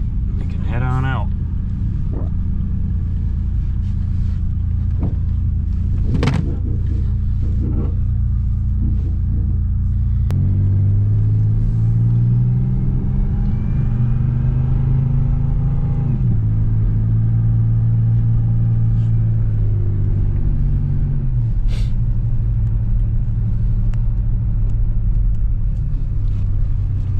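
Interior drive in a 1985 Pontiac 6000 wagon with a swapped-in supercharged 3800 engine: steady low engine rumble throughout, rising and falling in pitch through acceleration and gear changes, with people talking over it.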